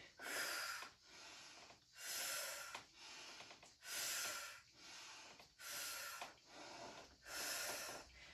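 Soft, rhythmic breath exhalations during a qigong breathing exercise repeat about every second, each a gentle airy puff, close but quiet with no talking.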